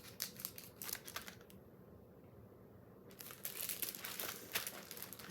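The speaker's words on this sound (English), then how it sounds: "Sorry for the crinkling." Plastic packaging around sew-on tags crinkles close by in bursts of rustling, pausing briefly in the middle before crackling again.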